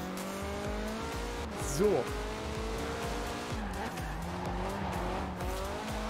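A car at stock power in Forza Horizon 4 drives with a steady engine drone, and a brief tire squeal rises around the two-second mark while someone talks over it.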